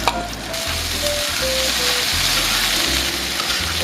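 Chicken meat hits hot oil with browned onions in a pan for a spicy curry, giving a loud, steady sizzle up close with faint stirring movements and no voices.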